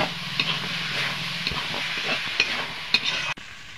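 Chana dal being sautéed in a pan with cumin-coriander paste, chilli paste and turmeric: a steady frying sizzle under repeated scraping stirs with a few sharper clinks, cutting off abruptly near the end, with no voices.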